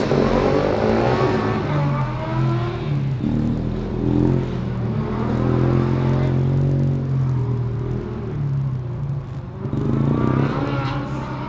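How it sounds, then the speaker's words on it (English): Formula Student race car does a burnout at the start of an autocross run, its engine roaring and revving loudly with a rough, rising and falling drone. "And Chalmers starting nicely with a proper burnout."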